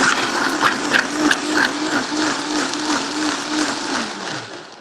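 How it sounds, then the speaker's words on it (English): A blender whirs loudly and steadily as it purées a raw vegan okonomiyaki sauce with smoked salt and sun-dried tomatoes, its motor drone continuous and close for the whole stretch. "And you just blend in a blender. So it'll be a bit loud."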